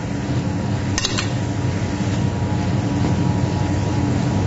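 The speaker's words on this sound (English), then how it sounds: "As the cabbage is cooking, okay, it'll start to wilt in the pan. Just turn it slightly." Cabbage wilting in a pan with smoked bacon and cider vinegar, turned now and then, giving a steady close sizzle with a couple of short utensil clinks near the start.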